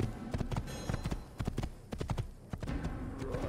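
A horse's hooves clip-clop at a quick, uneven trot in Assassin's Creed, close up and fairly loud over a low, busy background.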